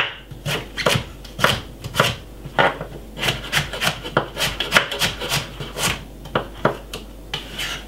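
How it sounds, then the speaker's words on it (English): A knife chops sweet potato into fine pieces on a board, a quick run of crisp, close knocks and slicing strokes in an uneven rhythm, with no talk. "Let's get the sweet potato cut up."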